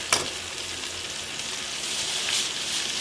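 Pork loin searing in a hot pan, a steady close sizzle with a sharp crackle at the start, moderately loud and continuous with no talking.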